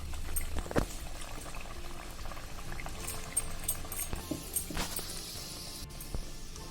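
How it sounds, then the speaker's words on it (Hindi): Rajgira puri dropped into hot oil, a continuous bubbling fry with scattered pops and a few crackling bursts, close and steady throughout. "ये हमारा ऑयल गरम हो गया है, धीरे से इसको डालूंगी इसमें"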